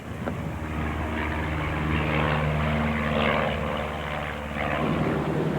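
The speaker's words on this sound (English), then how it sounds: "This whole thing doesn't fly bad, Jim, for an old airplane" An old Stinson propeller airplane drones steadily in flight, its engine hum loud and even throughout, with no other sounds.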